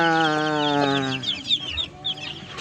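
A group of more than 20 young chicks peeps close by. Bright, rapid cheeps overlap with soft clucking from the farm flock.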